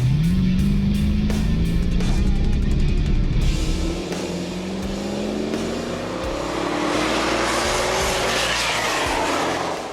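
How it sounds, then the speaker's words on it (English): A twin-turbo Gen III Hemi SRT8 Challenger and a Hellcat at a drag track, with a loud engine droning and rising as the cars accelerate, a steady revving roar rolling on beneath a sharp, crackling start. "the man himself is coming on the track in the Power Stop car"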